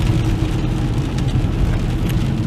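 Rain pattering steadily on a car driving at night in Montreal's NDG area, a dense hiss over the low rumble of the moving vehicle, loud and unbroken.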